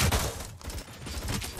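Gunfire from the ED-209 robot in RoboCop: Rogue City, a dense, loud fusillade of overlapping shots that dips briefly before surging again.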